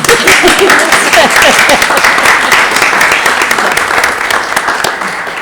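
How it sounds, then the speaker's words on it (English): A crowd applauds steadily at a city council meeting in Owen Sound, dense clapping filling the space at full volume and tapering slightly toward the end. "You can applaud. That's fine."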